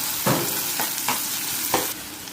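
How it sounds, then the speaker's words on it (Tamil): Onions and tomatoes sautéing in a pan for a village-style mutton gravy: a loud, constant sizzle with several distinct scraping stir strokes spaced about half a second apart. "வெங்காயம் நல்லா வதங்கின பிறகு தக்காளி, போதுமான தக்காளி எல்லாத்தையும் போட்டு சேர்த்து வதக்கிக்கணும்"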